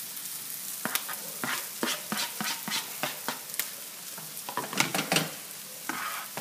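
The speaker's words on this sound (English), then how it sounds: "turn the heat back up on it a little bit so that it can start sauteing together" Sliced onions and mushrooms sautéing in a hot pan give a continuous sizzle broken by repeated scraping strokes of a spatula, roughly two or three per second, close and fairly loud with no talking.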